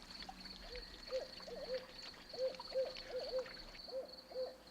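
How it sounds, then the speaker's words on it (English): Barred owl of wooded swamps hooting in a series of rhythmic, rounded calls spread across the clip, moderately close over a quiet background with a steady faint insect drone. "This bird of the wooded swamps is the barred owl."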